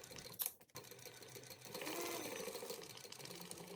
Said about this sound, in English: I'm just going to stitch this gap closed on both sides